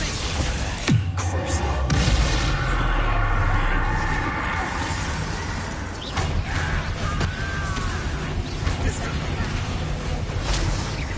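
A Descendo spell effect in Hogwarts Legacy crashes and booms amid busy, dense game combat noise, with a sharp impact about a second in and further smashes and whooshing swirls through the rest.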